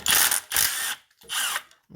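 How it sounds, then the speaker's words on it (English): Impact gun spinning a 13 mm bolt off the power steering pump on a Renault Trafic / Vauxhall Vivaro van: three loud, bright ratcheting bursts of roughly half a second each, close up, with short pauses between. "another 13 millimeter, which hopefully we can get with the gun."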